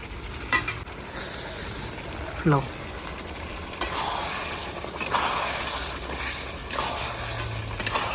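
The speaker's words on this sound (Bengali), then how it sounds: "এবার আমি খাসি মাংস দিয়ে দেবো।" Mutton pieces drop into a pot of sizzling tomato gravy on a village-style cooking fire, raising a steady close hiss and bubbling with occasional sharp crackles and stirring scrapes.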